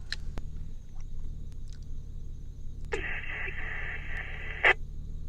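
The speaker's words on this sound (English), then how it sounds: "I'm pretty sure that's the simplex you hear keying up, but there's just not enough audio." A GMRS two-way radio on a simplex channel keys up faintly, a short burst of hiss and tone over a quiet background hum, ending with a sharp click.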